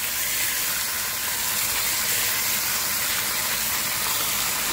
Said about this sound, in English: That's what you call a sear.